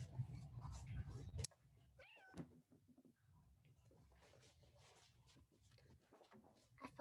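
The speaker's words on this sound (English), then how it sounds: "I found my cat." A cat meows loudly and close at the start, followed by quieter, drawn-out vocal sounds and soft indoor shuffling and knocks.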